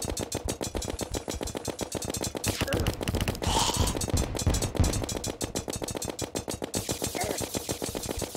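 Rapid, continuous volleys of Martian lasers and rockets during a Martian Madness invasion in Terraria, a dense mechanical rattle of shots with brief bursts of louder blasts midway, steady and close throughout.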